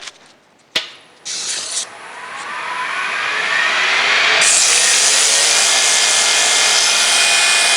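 A wooden workpiece spins on a lathe while 150 grit sandpaper is pressed to it, a harsh rising hiss of abrasion that builds and then holds loud and steady after a few early clicks and knocks.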